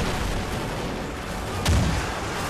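Muffled gunfire and explosive booms from the Call of Duty: Ghosts campaign, a steady rumbling barrage with one sharper, heavier thump near the middle.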